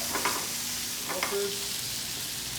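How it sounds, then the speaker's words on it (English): Sausage and jalapenos fry in flavored oil and fat, giving a steady close sizzle with a few brief clinks and scrapes of stirring. "I like to add jalapenos while it's cooking"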